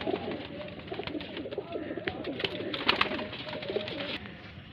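Rare highflyer pigeons, a long-flying breed, coo softly and repeatedly in a steady, close, rolling murmur with light rustling and background clatter, no talk.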